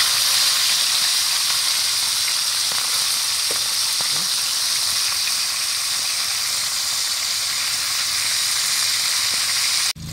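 Fish frying in a pan of hot oil for a crunchy dinner, with a loud, steady sizzle and hiss that runs the whole time, speckled with small pops and spatters.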